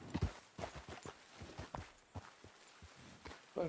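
Horse hooves clip-clopping in the Red Dead Redemption 2 video game, a quiet irregular walking beat of soft thuds that slows and pauses, heard alone at low level.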